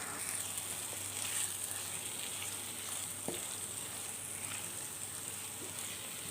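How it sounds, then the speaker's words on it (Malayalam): Onions sautéing with curry leaves in a pan for a Kerala beef pepper curry, giving a steady, close sizzle and frying hiss throughout, with an occasional faint stir or tap. "ഒരു രണ്ട് തണ്ട് കറിവേപ്പിലയും കൂടിയിട്ട് നല്ലതായിട്ട് വഴറ്റിയെടുക്കാം"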